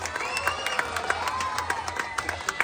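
A crowd at a barangay gay pageant night in Tundo claps and cheers, a busy, slightly distant wash of applause with scattered shouts and sharp claps, no speech on top.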